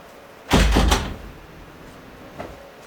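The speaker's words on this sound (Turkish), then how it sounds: "Kapıyı da kapatayım." A door in the game Euro Truck Simulator 2 swings shut with a single loud, close thud and brief rattle, then a quieter click about two seconds later.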